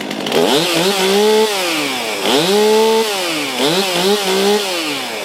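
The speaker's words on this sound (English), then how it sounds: "This chainsaw quivers as much as the Husqvarna. That's a 73cc chainsaw." A Stihl MS362 chainsaw of about 73cc is revved loudly and close up in repeated bursts, its pitch rising and falling with each squeeze of the throttle, with no talking over it.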